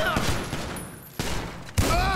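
Gunfire in the video game Grand Theft Auto 5: close, loud bursts of rapid shots, with sharp onsets and brief gaps between volleys.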